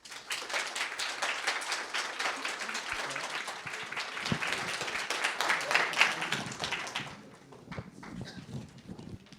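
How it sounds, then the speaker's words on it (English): Audience at a women's cybersecurity competition final applauding the finalists, dense sustained clapping from a sizable crowd that fades near the end into scattered claps. "Another round of applause for all the finalists here."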